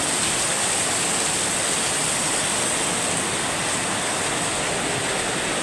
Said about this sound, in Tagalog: Kita nyo guys, sobrang lakas ng ulan.